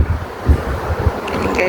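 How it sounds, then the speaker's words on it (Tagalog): Steady, gusty wind buffets the microphone outdoors near the Paul Bunyan statues, a continuous low rumble with soft surges and no clear talk. "Medyo mahangin."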